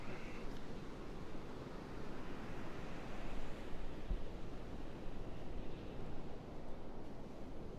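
Ocean surf of about two-foot waves rolling onto the beach at Pawleys Island at sunrise, a continuous soft wash of breaking water with light wind rumble throughout.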